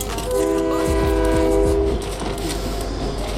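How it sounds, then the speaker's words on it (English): A train passes in a shooter video game, its loud horn blaring in layered tones for about two seconds over heavy rumbling wheels, then the rumble carries on alone. "Train coming."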